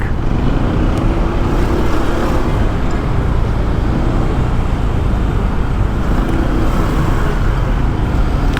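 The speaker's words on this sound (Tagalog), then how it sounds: "Yung traffic." Loud, continuous roadway noise near a bike lane, with cars and other motor vehicles rumbling past in an unbroken wash of engine and tyre sound, close to the microphone.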